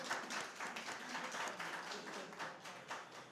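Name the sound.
audience clapping for debaters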